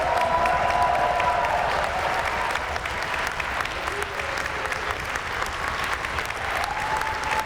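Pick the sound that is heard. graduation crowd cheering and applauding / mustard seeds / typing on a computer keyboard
graduation crowd cheering and applauding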